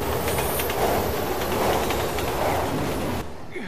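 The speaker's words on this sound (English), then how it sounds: "How are the trains still running?" Train rushing past in the zombie survival game Resident Evil 6, a loud, continuous rumbling roar of wheels and cars close by that cuts off abruptly near the end.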